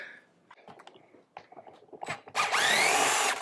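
A power drill backs screws out of an old pergola fascia board, scattered clicks and scrapes giving way to a loud, sustained whirring burst near the end.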